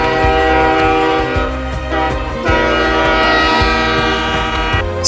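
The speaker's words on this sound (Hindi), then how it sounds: "इस कसारा घाट से जब वे ऑरेंज कलर की वंदे भारत ट्रेन गुजरती है तो नज़ारा कुछ ऐसा होता है।" An orange Vande Bharat train passes through Kasara Ghat, its horn sounding loud and close in long sustained tones over the steady rumble and clatter of the wheels on the rails.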